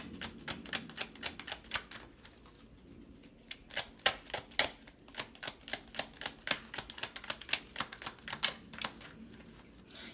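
Tarot cards being shuffled: a long run of quick, crisp riffling snaps and slaps, loud and close, with brief pauses between bursts and no voice over them.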